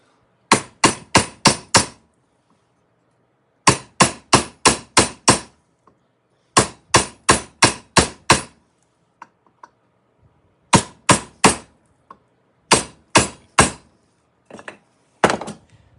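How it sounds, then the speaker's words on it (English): Sharp metallic claw hammer strikes during an aluminum swingarm install on a motorcycle, in quick bursts of four to six blows separated by short pauses, loud and close with no talking. "Maybe if I use this and a real metal hammer. It's a claw hammer"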